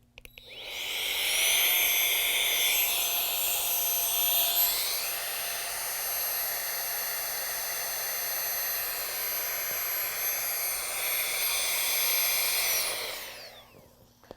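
A pocket-sized electric air pump inflating an air pillow runs steadily for about twelve seconds, a loud high-pitched whirring whine that shifts pitch partway through as the pillow fills, then winds down and stops.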